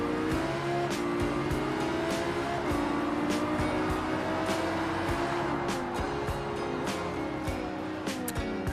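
Race cars lap a track in the BeamNG game with the Beam.Turismo mod, and several engines drone and whine together continuously, punctuated by frequent sharp clicks and ticks.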